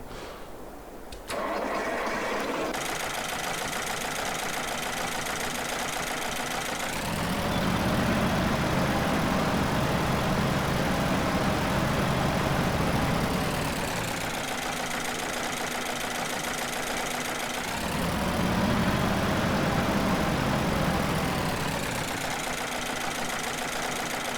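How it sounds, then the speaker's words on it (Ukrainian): A steady Antonio Carraro tractor engine in Farming Simulator 22 idles continuously, its rumble swelling louder twice as if revved, then settling back; no voices. "це реальні звуки двигуна"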